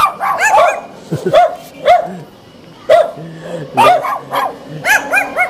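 A small dog barks aggressively in rapid, sharp bursts, close and loud, with short pauses between barks. A voice may be faintly present under the barking.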